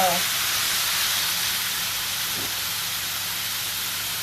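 Tomatoes, peppers, aubergine and other small vegetables hit a hot pan for rice pilaf, setting off a loud, steady steaming hiss and sizzle that follows a brief voice at the start.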